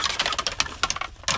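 Large deer antlers rattle together as a deer call, giving quick, sharp clacks and clatters in uneven bursts. The sound is close and loud, with no voice.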